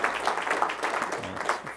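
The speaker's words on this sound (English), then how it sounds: "I think you deserve a round of applause as well" Faint applause from an audience at a school district board of trustees meeting, a soft, steady patter of clapping spread across the room, with some voices mixed in.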